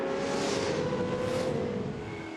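Touring car engines roar at turn 3 during a 2015 Touring Car Masters race at Winton, with Camaro and Mustang cars, a loud sustained drone rising and falling as the cars pass, then easing off.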